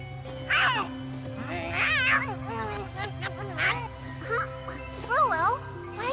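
A cat meows several times in the video game Tales of Xillia 2, short rising and falling cries spaced over a game music bed with voices talking.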